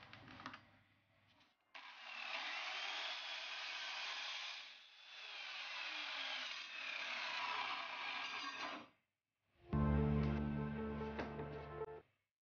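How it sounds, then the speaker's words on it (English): A homemade sliding miter saw cuts through HMR board: a loud, sustained motor whine while the blade bites for several seconds, a short pause, then a harsher, louder burst of spinning and cutting before it stops. "I cut using my DIY sliding miter saw."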